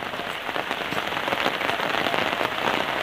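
Steady rain falls in a village during the rainy season, a dense, even patter on surfaces throughout, with no voices.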